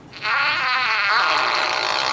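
Sustained, buzzy electronic fart sound from a novelty sound-effect button toy, loud and close, starting after a brief pause and holding steadily for about two seconds with no talking.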